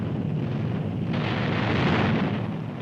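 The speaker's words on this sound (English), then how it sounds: "Then the Japanese torpedoes come in." Japanese torpedoes strike the aircraft carrier USS Yorktown in archival wartime film. A dense, roaring explosion rumble fills the whole stretch and swells slightly toward the end.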